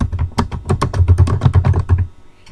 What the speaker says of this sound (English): And we're going to type in the text box,